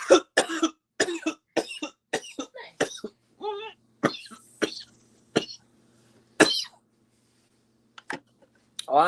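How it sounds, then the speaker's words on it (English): A woman coughs repeatedly in a long run of sharp, close bursts, broken by a short pause and a few throat clears, loud and near with no talk over it. "I'm just coughing, y'all."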